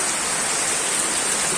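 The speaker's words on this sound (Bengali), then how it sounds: "বৃষ্টি চলতেছে, বৃষ্টি পড়তেছে ইনশাল্লাহ, রিমঝিম বৃষ্টি পড়তেছে" Heavy monsoon rain pours down in a dense, loud, unbroken hiss, a steady wash of falling water with no voices or other sounds.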